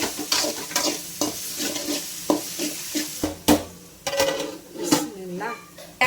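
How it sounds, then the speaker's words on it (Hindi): Onions sizzle in a pan with ginger and garlic as a spoon scrapes and stirs them in steady strokes, with someone talking over the cooking. "अदरक लहसुन डाल के अच्छा मिक्स कर ले रही हूँ।"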